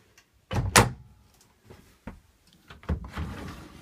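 A drawer or cabinet in a 1997 32-foot Holiday Rambler Alumilite RV slides and thumps shut, followed by a few softer knocks and a second sliding bump, all close by.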